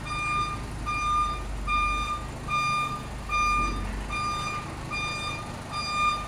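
Steady, evenly spaced reversing beeps from a trailer truck backing up at a trucking yard, loud and close over a low idling engine rumble, with no one speaking.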